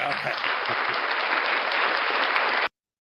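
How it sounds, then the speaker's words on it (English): Dense, steady applause from an audience on a morning livestream show, a loud, even wash of clapping for about two and a half seconds before cutting off abruptly. "So everybody, round of applause for Ray Ray."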